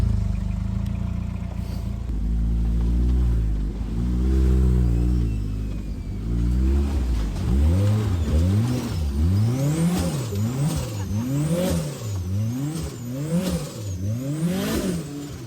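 A 550 hp turbocharged Civic Type R-engined off-road buggy revs hard and close, its engine note rising and falling in repeated rhythmic swells with a whining turbo on top, loud and without speech.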